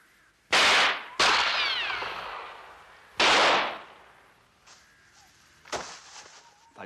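Gunshots in a French film, about three loud close blasts with long ringing decay, then fainter scattered sounds, with no talk.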